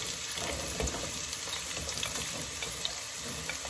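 Onions frying in a pan for kali mirch chicken tikka, a dense, steady close sizzle with small pops and crackles, with no voice heard.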